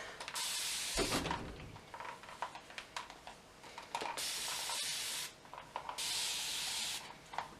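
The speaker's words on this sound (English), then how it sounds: "I'm going to spray it a little bit" Repeated bursts of hissing mist from a spray bottle of Maui Moisture hair product sprayed onto hair, several long sprays in a row close to the mic, with faint handling sounds between.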